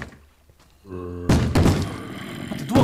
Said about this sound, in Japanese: 待って、ドアが壊されてない？ これ